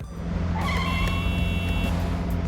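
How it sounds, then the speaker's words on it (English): A new car drives along with a low steady engine hum and road rumble, joined by a brief higher whine partway through, heard from inside at moderate level. "I'm driving in my new car."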